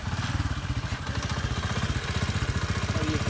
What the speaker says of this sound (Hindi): तो जनाब ये है होंडा CD70 2021 मॉडल